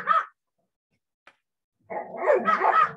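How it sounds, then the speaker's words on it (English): Dogs bark in the background of a quiet indoor recording, a short bark at the start and then a longer run of overlapping barks, moderately loud and somewhat distant, with no talking. "Dogs are barking."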